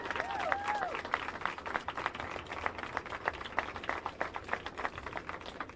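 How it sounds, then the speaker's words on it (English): An indoor audience claps for the new Human Rights Campaign president at an endorsement event, a dense steady round of applause with some crowd noise, close and sustained throughout. "Let's give him another round of applause."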